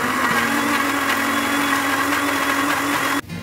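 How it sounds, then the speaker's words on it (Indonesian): A blender whirs steadily as spices are ground smooth for buntil, a Javanese dish of taro leaves. The motor drones loud and even, then cuts off abruptly near the end. "Semua bumbu kita haluskan."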